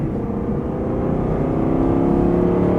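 An Aston Martin V8 Vantage S engine drones steadily from inside the car on a winding Portuguese mountain road, its deep note building gradually under light acceleration, loud and close, with no talk.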